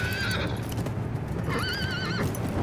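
Horse neighing in Diablo IV: a rising, wavering whinny that follows an earlier shorter one, loud and close over a steady game soundtrack with trotting hooves.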